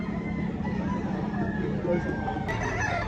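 Fighting roosters crow and hens cluck faintly against a busy background of crowd chatter and outdoor noise at a gamecock sale in Lipa City.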